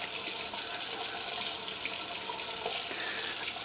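Cold water runs steadily from a kitchen tap while homemade butter is washed, a continuous close hiss and splash with no talk over it.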